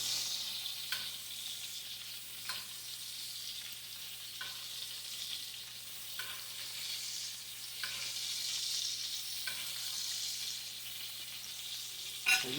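Arkansas-style hamburger steak frying in grease in a pan, giving a steady, close crackling hiss with soft periodic pops and ticks throughout; no voices.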